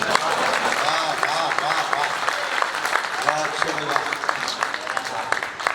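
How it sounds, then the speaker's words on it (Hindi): Crowd at a Hindi kavi sammelan poetry recital applauds in a continuous wash of clapping while a voice speaks over it throughout. "और अब आपकी तालियां उठेंगी"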